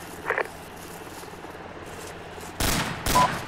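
Bursts of PKM machine gun fire in the military shooter Arma 2, a faint short burst early, then two louder sustained bursts near the end.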